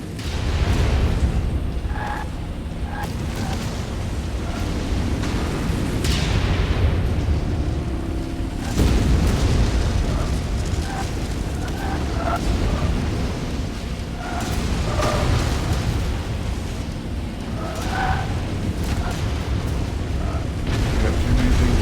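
Missile explosions boom and rumble in the Mechwarrior 5 mech combat game, with heavy, continuous low-end blasts layered over mechanical clanking and whirring, loud and sustained throughout with periodic sharper impacts.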